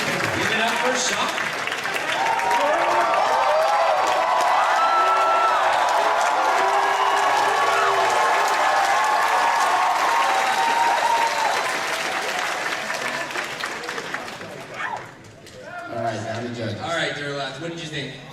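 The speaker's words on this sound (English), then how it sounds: "Give it up for Sean." An audience at a stand-up comedy show at an anime convention applauds a comedian, loud sustained clapping with scattered cheers and whoops that fades near the end into a few chuckles and murmurs.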